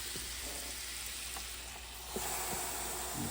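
Cajun lemon pepper chicken and shrimp sizzle on an indoor grill with a soft, steady hiss and a few faint pops and clicks.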